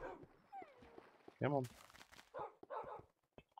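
A pet dog in a home kitchen gives a sharp, whiny bark with a few softer whimpers around it, close by, while someone talks to it.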